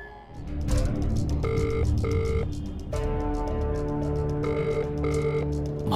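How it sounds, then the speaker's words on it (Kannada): A telephone rings with an incoming call, its repeated bursts of bell tones carrying over a dense, continuous background of other sound. "ಮತ್ತೆ ಅವ್ನು ಫೋನ್ ಮಾಡ್ದ."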